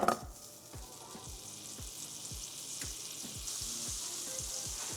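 A stick of butter melting in a pan sizzles and crackles softly and steadily, with scattered sharp pops and light taps, fairly quiet and close with no voices.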